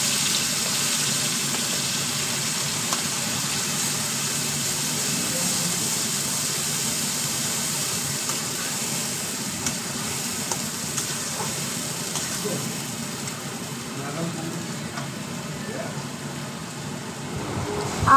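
Ground amla cooks in heated ghee, giving a steady, moderately loud sizzling hiss that holds evenly throughout with little variation.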